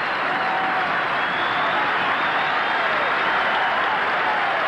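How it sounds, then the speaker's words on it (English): A stadium crowd at a 1987 Manly versus St George rugby league match roars and applauds a player walking off injured, a dense, continuous wash of cheering and clapping at high volume throughout. "Just listen to the crowd."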